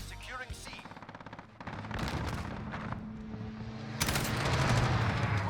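Sustained rapid gunfire from a first-person shooter video game rattles in dense automatic bursts, with a heavier barrage near the end and a player talking over it.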